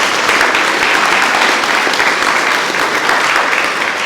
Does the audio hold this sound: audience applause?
yes